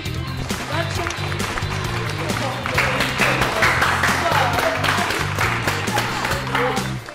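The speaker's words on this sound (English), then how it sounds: "from what we saw today and the audience applause" A studio audience applauds and cheers on a college game show pitting Temple Owls against La Salle Explorers, with loud sustained clapping and crowd noise over a rhythmic music beat.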